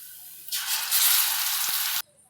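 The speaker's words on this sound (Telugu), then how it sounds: "పచ్చి వాసన పోయేంత వరకు ఫ్రై చేసుకోవాలి" A short, loud burst of sizzling comes from ingredients frying in a pan for tomato pasta, cooked until golden. It lasts about a second and a half, then cuts off abruptly to quiet.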